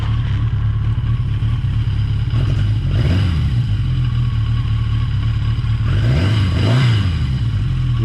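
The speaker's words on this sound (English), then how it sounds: "If you can go from idling to get a little throttle, which is not quite warmed up yet," Yamaha XJ650 motorcycle engine, not fully warmed up, idling steadily up close, then rising twice under a blip of throttle into short revs before settling back to idle.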